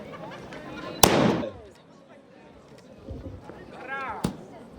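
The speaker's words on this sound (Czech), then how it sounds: "Máme německý dělo, tak pojďme." A German cannon fires a shot at a town fair in Jiříkov, one sharp close blast followed by a rumbling decay and then another short crack, with people talking around it.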